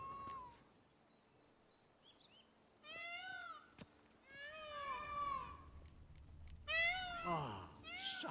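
A cat in The Witcher 3 meows several times, each call drawn out and rising, at moderate distance. Faint bird calls and ambient game noise sit underneath.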